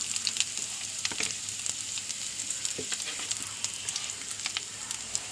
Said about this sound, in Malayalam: ചെറിയ ഉള്ളി ഇടുന്നുണ്ട് വേപ്പിൻ്റെ അല്ലി ഇടുന്നുണ്ട്